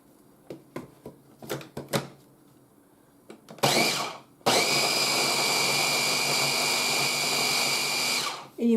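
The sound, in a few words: blender blending ice cream with cottage cheese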